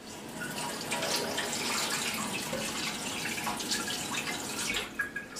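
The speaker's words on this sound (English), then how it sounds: "Rinse my spoon." Tap water runs steadily into a kitchen sink to rinse a spoon, a close, continuous splashing rush that lasts the whole time and stops abruptly near the end.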